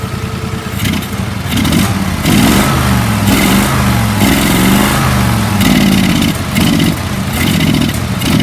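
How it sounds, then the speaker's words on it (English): Small engine of a mudding lawn mower with a partly cleaned carburetor, revving under throttle with a loud, close, buzzy drone that rises and falls and clatters a little, alone without talk. "she runs now. Runs fairly decent. It needs a little bit more carburetor work in it. So I'll give it a little throttle for you guys."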